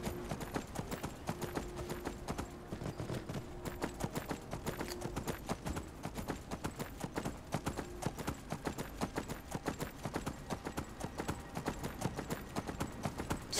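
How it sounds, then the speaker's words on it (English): Hooves of a horse in Skyrim, a fantasy video game, clip-clop in a fast, steady rhythm throughout, a continuous galloping patter with a faint background hum and no one speaking. "Where's my horse? There's my horse. Let's go, my horse."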